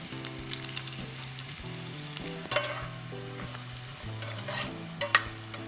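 Celery leaves and stems sizzle in hot oil in a pan for Schezwan chutney, a soft continuous frying hiss with occasional stirring scrapes beneath quiet background music.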